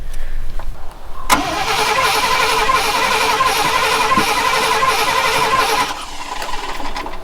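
An old truck engine runs with its throttle stuck open, roaring loud and steady after a sudden start, then dropping off near the end. No voices are heard.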